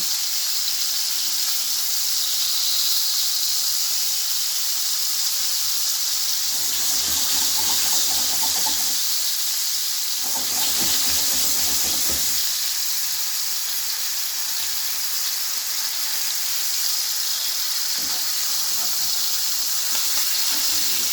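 Beef steak sears and browns in a hot pan for a perfect medium finish, giving a steady, loud broadband sizzle throughout with slight swells and dips as the meat is turned.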